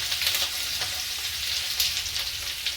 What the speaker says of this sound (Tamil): எண்ணெய் நல்லா காய்ந்த பிறகு சிறிதளவு சீரகத்தை சேர்த்துக்கிறேன்